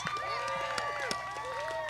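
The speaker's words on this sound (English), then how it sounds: "Big round of applause" Crowd applause and some cheering for the pickleball champions at the 2021 US Open, moderately distant under an announcer speaking over it.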